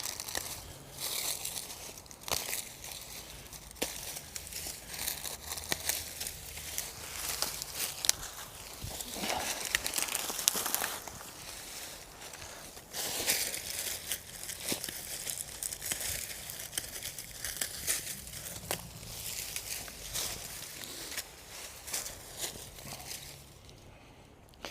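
Old dry asparagus fronds being cut back and handled in a garden, giving a steady run of crackling, crinkling rustles and snaps, close and fairly loud, with no talking.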